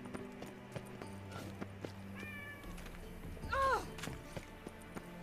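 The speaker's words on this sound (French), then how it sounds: "Je vous présente mon chat, si vous l'avez entendu dans le micro" A pet cat lets out a single loud, drawn-out meow close to the microphone, rising over quieter video-game sounds of horse hooves and background tones.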